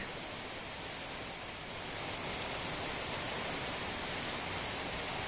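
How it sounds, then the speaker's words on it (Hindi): Heavy monsoon rain streams off a house rooftop as a small rain-fed waterfall, giving a steady, even hiss of falling water throughout. "देखिए ये झरना, तेज बारिश के कारण मेरी छत पर"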